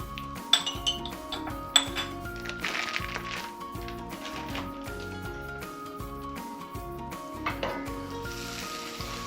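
Butter melting and sizzling in a hot pan with olive oil, a soft steady frying hiss beneath clinks of pans and utensils, with a couple of sharp metallic taps near the start.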